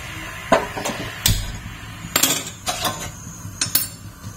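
A metal wok on a gas stove is knocked and scraped while oil is poured in for an egg and potato dish, giving a series of sharp, close clanks spaced irregularly.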